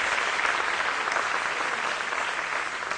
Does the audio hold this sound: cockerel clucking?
no